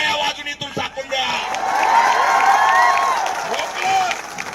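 A crowd at a student protest bursts into loud, sustained clapping and cheers with whoops, swelling after a brief lead-in of voices and holding strong to the end.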